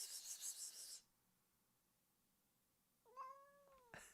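A single short cat meow, fairly close, rising then falling, after a burst of noise and a stretch of quiet.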